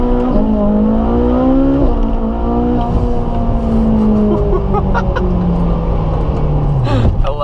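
Ferrari 458, a rear-wheel-drive sports car, pulls away from a stop sign with a steady engine drone rising in pitch through the gears, heard from inside the cabin and continuous throughout.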